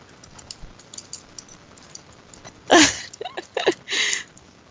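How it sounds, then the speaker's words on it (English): Scattered clicks of someone typing slowly on a computer keyboard, faint taps early on and then a few louder bursts of keystrokes near the end, close and otherwise quiet. "But I type very slowly"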